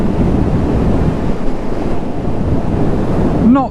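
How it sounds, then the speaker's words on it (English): Strong wind roar buffets the microphone on a BMW R nineT 1200 motorcycle at riding speed, a loud continuous rush that fills the clip, with a brief whine near the end. "the wind isn't much of a problem"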